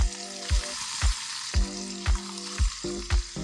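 Onions sizzle as they cook down in a 10-quart pot, a steady frying hiss punctuated by regular low thumps about every half second, close and alone with no talking.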